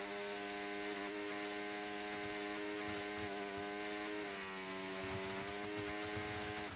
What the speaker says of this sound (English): When they have overtake turned on, the revs of the engine don't change.